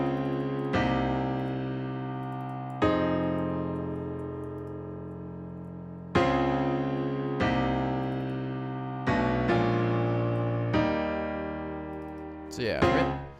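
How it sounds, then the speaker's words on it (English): Piano chords are struck one at a time and left to ring and fade, moving through a slow progression with a quicker flourish at the end. "So I started off with this chord progression on the piano."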